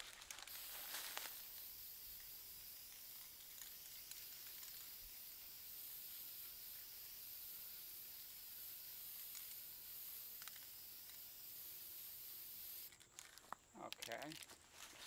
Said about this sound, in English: here we go with the first coat of gloss